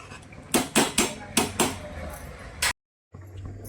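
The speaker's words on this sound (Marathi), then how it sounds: "त्याच्यावर झाकण ठेवते." A lid goes onto a cooking pot of mutton biryani: several sharp metallic clanks and taps in quick succession, fairly close and loud, then a brief cut to silence before faint kitchen background resumes.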